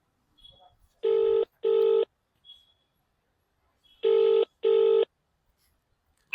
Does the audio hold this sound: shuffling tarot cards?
no